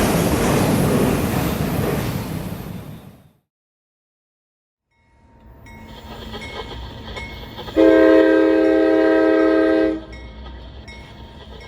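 A late-night freight train rumbles past nearby after a brief silence, its horn sounding loud and steady for about two seconds over the rolling rail noise.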